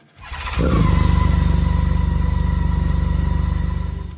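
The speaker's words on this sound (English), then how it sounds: "BMW K1600 GTL." BMW K1600 GTL touring motorcycle starting up, its engine catching after a brief crank and settling into a loud, close, smooth idle with a rapid, even pulsing rumble that fades slightly at the end.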